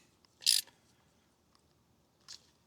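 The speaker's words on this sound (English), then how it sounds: "Grab our 1/2 inch socket" A ratchet with a 1/2 inch socket tightening a fuel filter on an Onan 12.5kW generator gives two short, quiet clicking bursts, the first slightly longer, with near silence between them.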